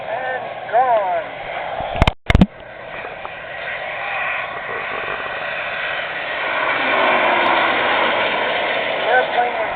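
A jet warplane built around a 30mm six-barrel Gatling gun roars past at a warbird show in Delaware, its broad rushing noise swelling and fading, with people talking over it and a couple of sharp knocks.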